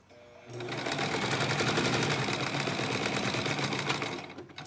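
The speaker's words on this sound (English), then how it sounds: "then I just did one continuous seam." A sewing machine runs steadily through one continuous seam while sewing a fabric face mask, its rapid needle rhythm close and loud from start to finish after a brief quieter moment at the start.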